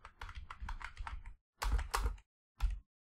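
Python code typed on a computer keyboard, with quick bursts of close, crisp key clicks broken by short pauses and no talking.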